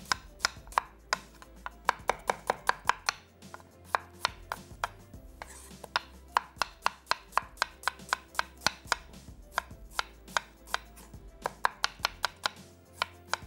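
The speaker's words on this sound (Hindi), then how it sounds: "2 अदद दरमियानी प्याज, इसको हम स्लाइस कर लें।" Medium onions sliced on a cutting board with a knife, giving a long run of crisp, close chopping taps in a quick, fairly even rhythm with a few short pauses, heard alone without talk.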